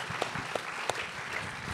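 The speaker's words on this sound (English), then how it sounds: "who deserves his own round of applause" Audience applause for a film's editor at a New York Film Festival Q&A, a brief, soft patter of clapping from a seated crowd, faint and steady with a few sharper claps.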